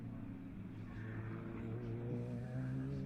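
Race car circuiting a track during a three-hour endurance race, a steady engine drone with harmonic whine building gradually as it approaches, heard continuously at moderate distance with no talk.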